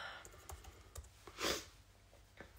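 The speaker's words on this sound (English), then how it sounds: "Typing in." Soft, quick keystrokes on a computer keyboard tap out a short burst of typing, faint and close, with one slightly louder press in the middle.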